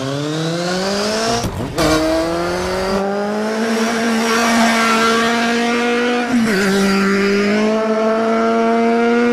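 A motorcycle engine revs up through rising gear changes, the pitch climbing steadily with brief drops between shifts, loud and close for several seconds.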